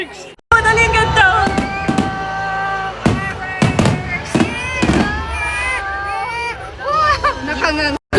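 Fireworks burst in a series of sharp, loud bangs around a home, while nearby voices and a child's crying carry on over and between the blasts.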